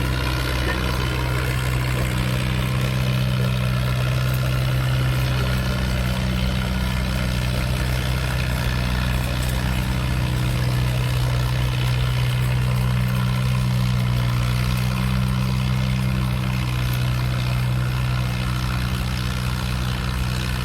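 An Allis Chalmers WD45 antique tractor works hard under load at a gas-up tractor pull, its engine droning steadily and loudly without a break, with a deep, constant low rumble throughout.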